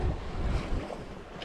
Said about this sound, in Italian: Il vento c'è, non manca.